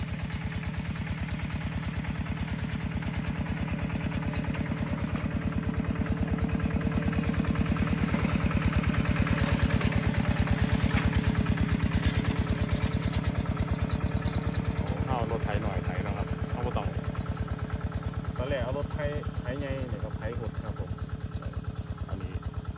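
A tractor engine runs with a rapid, even chugging rhythm while pulling a rice seeder in a paddy field, steady and close throughout, with some brief faint chirping or squeaks over it midway.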